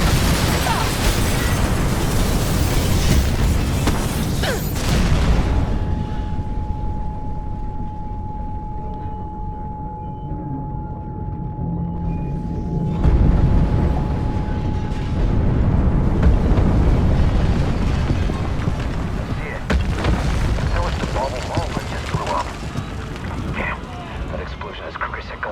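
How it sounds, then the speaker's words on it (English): Explosions and heavy booming blasts in the video game Mirror's Edge Catalyst, loud and continuous with a steady tone through the middle and fresh bursts later, while game characters talk over them. "Big explosion over here!"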